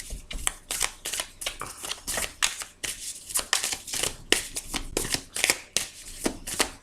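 A deck of tarot cards is shuffled and cut by hand, giving a steady run of close, crisp riffling flutters and soft slaps that keeps going throughout with no voice.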